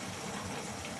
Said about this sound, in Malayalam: ഇതിനകത്ത് കുറച്ച് വെള്ളമുണ്ട്, അത് ഇങ്ങനെ കിടന്ന് തിളയ്ക്കുന്നുണ്ട്